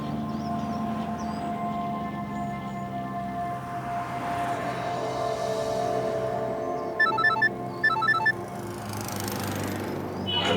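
A phone rings in short electronic bursts, two repeated trills over a droning, humming background.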